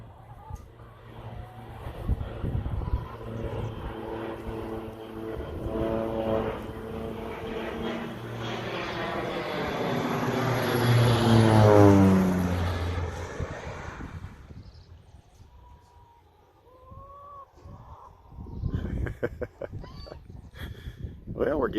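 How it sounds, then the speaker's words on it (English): Propeller-driven aerial crop duster flying low over a cornfield, its engine drone swelling into a loud, rising-and-falling pass with a clear pitch sweep, then fading away, while people talk throughout. "we're getting some pretty good footage of a aerial crop duster for sure"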